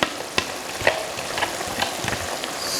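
Tatashe and pepper fry in a hot pan for egg sauce, giving a steady close sizzle with a few sharp stirring scrapes and clicks.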